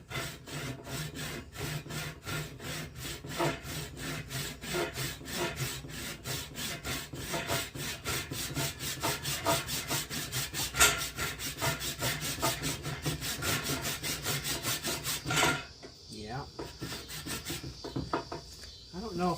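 A pull saw cuts through wood in steady, rapid back-and-forth strokes, loud and close, running for about fifteen seconds before the strokes stop and a brief quieter shuffle follows.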